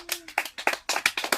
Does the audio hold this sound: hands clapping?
yes